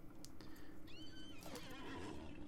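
A horse in the Lord of the Rings Online game lets out a loud, clear neigh that rises and falls in a whinnying trill, heard alone without talk.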